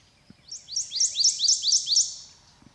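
A warbler in a swamp gives a loud, clear song of about six rapid repeated high chirping phrases, close and alone over quiet background.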